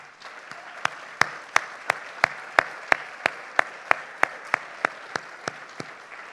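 An audience at a student voices event applauds the planning committee, with one person's loud, sharp claps standing out in an even rhythm of about three per second over softer clapping behind.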